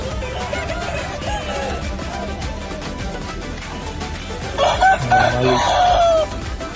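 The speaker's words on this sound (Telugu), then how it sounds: "మంచి కోళ్ళు వచ్చినాయి గైస్." Chickens cluck and a rooster crows at a busy hen market in Guntur, with crowd noise running throughout and a louder burst of crowing and squawking near the end.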